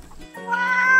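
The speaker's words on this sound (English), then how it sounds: "Cat." A cat gives a single clear, close meow that swells in loudness and holds a steady pitch to the end.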